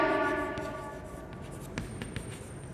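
Chalk or marker writing on a classroom board while a table heading is set out, with short scratchy strokes and taps, faint and close, no talking.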